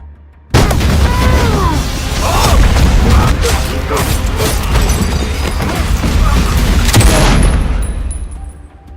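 A dense, loud stretch of film gunfire and booming blasts from a war scene runs for most of the clip over a rumbling action-scene background, with faint voices mixed in.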